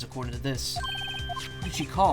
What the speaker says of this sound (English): I had a phone ring just now.